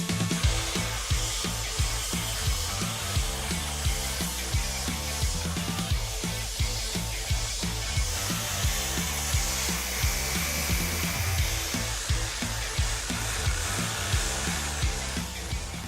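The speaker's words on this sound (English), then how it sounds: "And now when I'm cutting through, I'll know that I'm always cutting to the right depth." A power saw cuts through a wooden deck post, a continuous loud whining buzz with rapid rhythmic chatter from the blade biting the wood, steady and close throughout with no talk.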